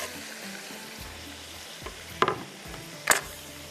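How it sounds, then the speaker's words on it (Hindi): Raw tomatoes go into a hot pan for black pepper chicken, producing a low steady sizzle under two sharp, bright splashes of frying and stirring clatter near the end. "ये मेरे पास है टमाटर जो है ये हम डालेंगे इसके अंदर"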